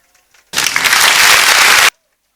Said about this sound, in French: On acclame le président Gbagbo.